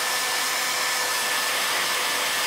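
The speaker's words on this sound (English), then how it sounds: "I need to let these dry for just a second, so I'm going to hit it with a hairdryer." A hair dryer blows steadily at close range, drying Venetian plaster on burlap with an even, unbroken whoosh and motor whine from start to finish.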